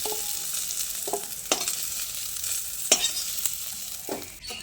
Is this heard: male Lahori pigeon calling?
no